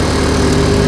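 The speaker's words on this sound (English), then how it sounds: "as the engine drops down to tick over again, the clutch disengages" A Honda Cub C90 motorcycle engine settles to tick over, a loud, close, steady buzzing idle with dense low throbbing, heard alone.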